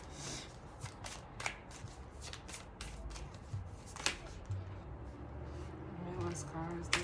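Oracle cards being shuffled by hand, soft repeated riffles and flicks close up over a low steady background, with a person talking quietly underneath.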